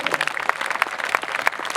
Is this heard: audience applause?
yes